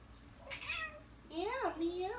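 A pet cat named Ellie meows twice indoors, a short call followed by a longer, rising and falling meow, close by and fairly soft in a quiet room.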